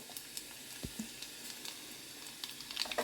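Mustard and cumin seeds sizzle in hot oil in a home kitchen, giving a soft, steady crackle with scattered pops and a faint stirring knock, growing slightly busier toward the end.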